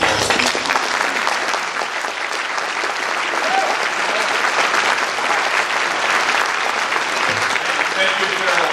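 Sustained audience applause in a bar association hall, welcoming Congressman Eric Swalwell to the podium; dense steady clapping holds at an even level throughout.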